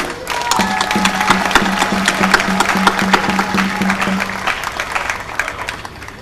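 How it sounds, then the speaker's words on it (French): Audience applause at a Congolese Health Ministry tuberculosis event, a steady wash of clapping that swells then thins toward the end, with a low steady hum running underneath. "que je vous demande d'applaudir"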